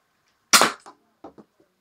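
X-Shot Micro toy blaster firing a foam dart: one sharp, close pop with a brief rattle, then a few soft light clicks and taps.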